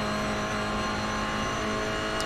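Toyota GR86 Cup race car in the iRacing video game at Road America, its engine held at high, steady revs after a downshift, a continuous buzzing drone with no speech.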